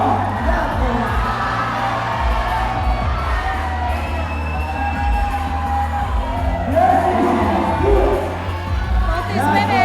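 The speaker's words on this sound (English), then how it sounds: "Getting the crowd psyched." A crowd at a climbing competition cheers and shouts steadily over a full stretch, a dense, loud roar of voices with whoops and yells that swells slightly toward the end.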